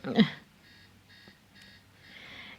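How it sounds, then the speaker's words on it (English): A Panasonic alarm clock goes off in a movie scene, sounding a series of short electronic beeps in a steady repeating pattern after a brief thump, moderately loud over a low background hum. "if you're late, why is your alarm going off?"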